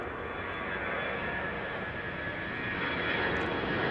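Two KLM Airbus A330 jets depart Schiphol. Their engines give a continuous, loud, broadband roar that holds steady and builds slightly as they approach.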